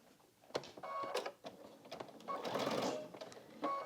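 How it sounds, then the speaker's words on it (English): A sewing machine stitches binding onto a quilt, running in short, close bursts of rapid mechanical whirring with brief pauses between them. "And now I'm just going to continue sewing"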